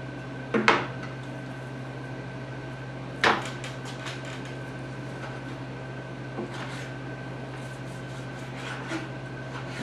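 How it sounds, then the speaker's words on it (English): A knife cuts a pork roast into cubes on a cutting board, giving a few sharp knocks and soft clatters spaced several seconds apart over a steady background hum. "First thing I'm going to do is cube up this pork roast."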